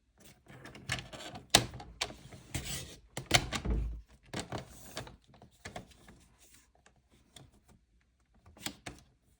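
Card is cut for a handmade gift box: a series of close, dry scraping and sliding strokes of a blade through paper card, coming in bursts and then fading to quieter, sparser cuts.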